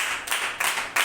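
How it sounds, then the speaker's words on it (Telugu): A church congregation at a Sunday service claps in rhythmic bursts, with three or four crisp rounds of many hands close together. "చప్పట్లు కొట్టుకోవాలి"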